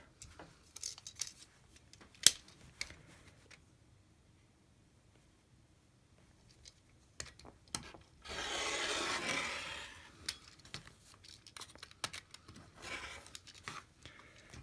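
Scissors trimming fabric in a quiet room, scattered snips and light rubbing sounds with a longer, louder cutting or rasping stretch in the middle, no talking.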